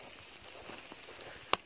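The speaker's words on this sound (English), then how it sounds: "It's been raining all day, then it was sleeting, and now it's fucking snow." Steady rain patters on surfaces outdoors in cold weather turning to sleet and snow, a faint, even hiss with scattered drops and one sharp tap near the end.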